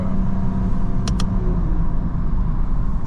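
A tuned BMW M340i xDrive with a custom XHP tune hums steadily while driving, its engine and exhaust giving a low, even rumble heard from inside the car, with two brief sharp clicks partway through.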